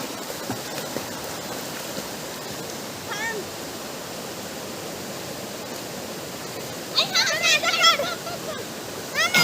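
A forest waterfall near Mumbai pours in a steady broadband rush while children play in the water, with brief excited voices rising over the roar near the end.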